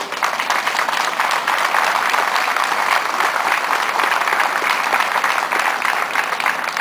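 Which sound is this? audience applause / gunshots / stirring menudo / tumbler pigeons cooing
audience applause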